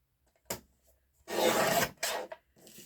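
A strip of paper being trimmed for a junk journal tag, a short snip followed by longer rasping cutting strokes and a few small taps, close and fairly quiet, with no voices.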